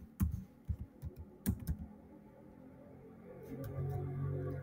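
Text is typed on a computer keyboard in an office software lesson. A quick run of close, crisp key clicks comes first, then a low hum takes over.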